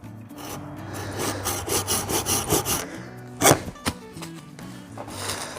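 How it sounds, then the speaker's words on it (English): A hand saw cutting through wood on a sawbuck, with a steady run of rhythmic back-and-forth strokes followed by a few sharper knocks and scrapes as the cut finishes, close and loud with no talking. "so I can cut it on the sawbuck"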